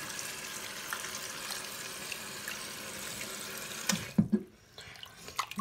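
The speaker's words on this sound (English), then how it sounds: "I rinsed my hand out." Tap water runs steadily while a hand is rinsed during a baby's bath, a continuous wash of flowing water at moderate volume that breaks off near the end into a few short splashes and clatters.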